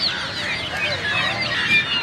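Several turkeys call over one another nearby at an outdoor weekly market, loud warbling gobbles and honks in a busy, continuous chorus.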